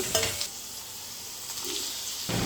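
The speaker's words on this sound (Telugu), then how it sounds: "ఇప్పుడు ఒక 10 సెకండ్స్ కలిపి మనం ముందుగా ఫ్రై చేసి పెట్టుకున్న ఎగ్ని వేసుకోవాలి" Egg fried rice with chillies, mint and coriander stir-fried street style, a steady close sizzle with scraping stirs of the spatula in the pan, alone without voices.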